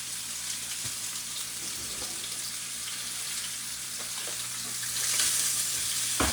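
A steak sears in a pan over a gas stove, giving a steady, loud broadband sizzle that swells briefly toward the end, with faint clinks and no talking.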